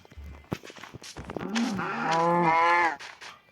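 A single drawn-out cow moo from the Minecraft video game, close and clear, rising into a long tonal low after a few short thumps that sound like footsteps.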